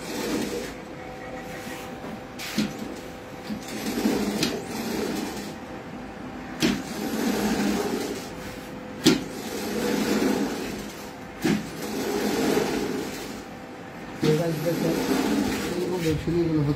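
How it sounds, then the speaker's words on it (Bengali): A Chinese-made stitching machine sews a mattress in a factory, a close mechanical whir and clatter that pulses in repeated bursts, with people talking over it. "এটা চায়না মেশিন দ্বারা আমাদের মেশিনটি মনে করেন সিলাই হবে, অনেক ঘন একটা সিলাই হবে এটা।"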